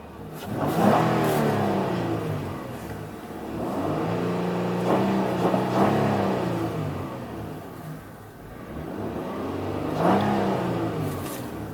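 A 2017 Honda Odyssey Elite engine revs up and settles several times in a rhythmic rise-and-fall pattern, loud and close, with no talking.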